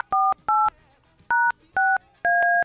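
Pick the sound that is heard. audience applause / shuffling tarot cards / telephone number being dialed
telephone number being dialed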